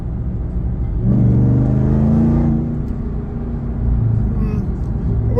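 From inside the cabin of a Ram TRX pickup with the windows closed, a deep muffled engine and exhaust drone rises as it revs, eases off, then builds again.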